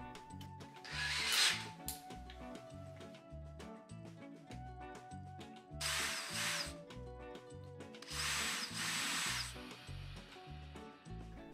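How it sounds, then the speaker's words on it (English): A 1/16 twist drill bit bores starter holes into a wooden flooring plank, with a steady motor whine and two or three louder grinding bursts as the bit bites into the wood, close and alone. "I took a 1/16 twist drill bit and drilled two separate starter holes in the left and right side of"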